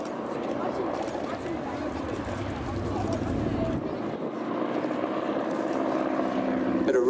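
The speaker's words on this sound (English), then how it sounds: "Bit of rudder to line the aircraft up on the display line." A propeller aircraft flies an aerobatic wing-walking display along the display line at an airshow, its engine drone steady and fairly loud throughout, with an announcer commentating over it.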